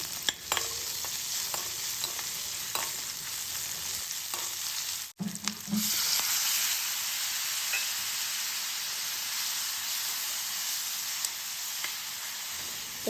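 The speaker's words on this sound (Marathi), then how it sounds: "व्यवस्थित सर्व तेलामध्ये परतवून घ्यायचं आणि आता आपण कांदा घातला आहे" Onion sautéing in oil in a pan: a steady close sizzle with scraping stirs throughout, briefly cut off once before resuming, with no talking.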